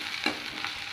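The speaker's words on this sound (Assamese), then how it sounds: "এতিয়া মই নহৰু পেষ্টখিনি দি দিছোঁ।" Garlic paste and onions fry in hot oil in a kadai for ghugni, a faint steady sizzle with a light stir or spatter near the start.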